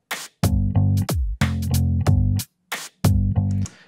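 Programmed drum groove built in Groove Agent, using a Neuro Glitch side stick sample: short punchy hits with clipped, glitchy tails in a tight repeating pattern, loud and close with brief gaps between phrases.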